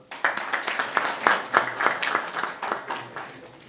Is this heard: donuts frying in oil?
no